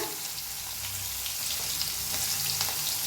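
Asafoetida, crushed garlic and green chillies fry in hot oil with mustard seeds, a steady soft sizzle with scattered crackles and pops throughout, no talking.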